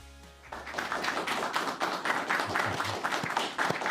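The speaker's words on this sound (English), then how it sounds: "all that applause that you hear in the background is we have a group of interns joining us in the studio today" A group of interns claps in a podcast studio, producing steady, dense applause that starts abruptly and continues without pause.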